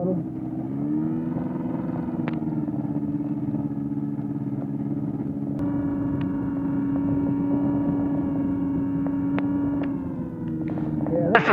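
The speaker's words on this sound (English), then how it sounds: "The engine will idle. That's idle." A light aircraft's piston engine idles on the ground in cold weather, a close, steady droning hum that holds evenly throughout and shifts slightly in tone partway through, with people talking over it.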